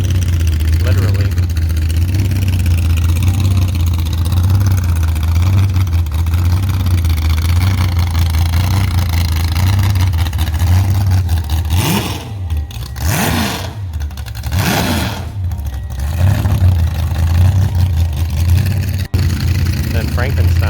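A Chrysler 300 with its front end stripped away, all motor, rumbles at a steady low idle for the whole stretch, with a brief burst of louder noise midway. Voices talk over it at times.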